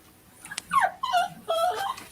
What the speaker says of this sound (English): One of our dogs just whining.